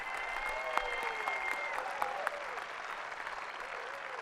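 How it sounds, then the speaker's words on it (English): Steady applause from a crowd at the 2018 Shawnee Mission West high school graduation ceremony, sustained clapping throughout with a few sharper claps standing out and no talking. "Let's give these folks a round of applause for their leadership."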